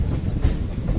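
Intercity express train at a railway station, a steady low rumble of rolling stock and wagons filling the second, with some wind buffeting on the microphone and no talk.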